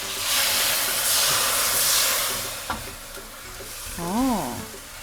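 A bowl of water hits a wok of stir-fried rice noodles, setting off a loud, steady sizzle and steamy hiss with a sharp click midway and a brief wavering tone near the end.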